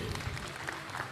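An audience applauds at a book launch auction, a brief patch of clapping at moderate level under a busy room.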